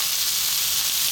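Chicken and vegetables sizzle in a pan during a stir-fry, a close, continuous hiss that stays steady and fairly loud throughout, with no talking.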